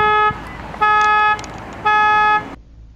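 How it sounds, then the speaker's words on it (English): A Jeep's car alarm blares nearby in loud, repeated electronic horn-like blasts, three pulses with short gaps between them, before cutting off into quiet. "A short time later, the Jeep's alarm was going off."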